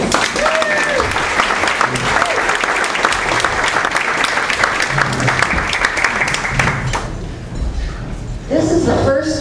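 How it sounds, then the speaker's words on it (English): Members at a League of Women Voters annual meeting applaud committee members, loud close clapping that eases briefly near the end, then picks up again as voices start to talk over it. "please give them a round of applause"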